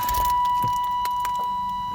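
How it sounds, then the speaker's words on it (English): Key turning in the ignition of a 1988–1995 Chevy Silverado pickup with a faulty blower fan: a few light metallic jingles and clicks of keys close by over a steady hum, with a short chime tone holding throughout. "Now, turn the key on."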